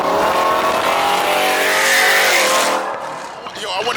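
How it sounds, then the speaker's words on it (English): A car engine cold-starts in a garage, a loud sustained roar rising toward a high-revving peak before easing back, close to the microphone, with voices speaking over it. "Cold start, man, on camera."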